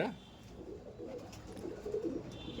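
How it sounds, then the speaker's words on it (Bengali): Pigeons kept in a loft coo softly with low, rolling calls, faint beneath quiet talk. "পায়রা দেখুন, এখানেও দেখুন প্রচুর পায়রা আছে"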